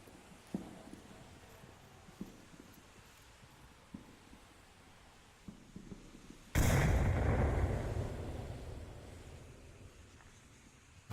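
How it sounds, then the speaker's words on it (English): A frag grenade goes off in the VR shooter Onward: a sudden, loud blast hits partway through and rolls off in a long decaying rumble, after scattered light thuds and movement sounds. "Why was that frag grenade tossed?"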